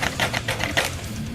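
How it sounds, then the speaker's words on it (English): Spring-loaded plastic scissor arms on a Kenner Megaforce Triax Goliath toy snap and rattle in a quick series of close, sharp clicks, about five in under a second. "These things are spring-loaded, so they will snap back every time."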